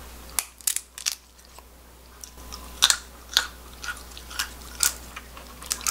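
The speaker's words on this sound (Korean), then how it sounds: "자, 그럼 생땅콩을 한번 먹어볼게요." Loud, crisp crunches of raw peanuts being bitten and chewed close up, in irregular bursts with short quiet gaps between.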